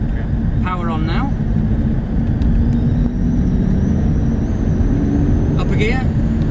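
Aston Martin DB9 engine pulling steadily under power on a driving experience, a continuous low rumble running throughout, with brief voices talking over it near the start and end.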